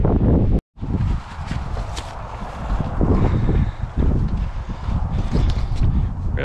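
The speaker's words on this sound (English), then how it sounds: "It is freezing cold and windy" Cold winter wind roars steadily outdoors before a motocross ride on ice, a loud, continuous broadband rush broken by one brief dropout near the start.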